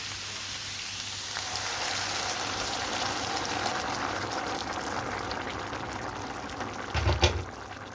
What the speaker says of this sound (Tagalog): Tapos ako ay maglagay ng tubig